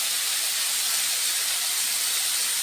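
Fish sizzle and hiss steadily in hot mustard oil in a village kitchen, a dense and continuous frying roar that stays loud and close throughout with no voices.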